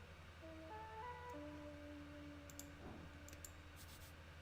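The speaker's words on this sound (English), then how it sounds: "That was a clicking sound." Sharp, faint clicks from a trap in the video game Esoteric Ebb: a short burst of ticks, then two more quick clicks, heard over a soft melodic synth tone in the background.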